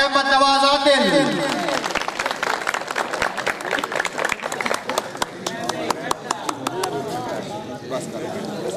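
At a Punjabi mushaira, the audience gives a poet a welcome with scattered, crisp handclaps, heard after a voice that speaks briefly at the start.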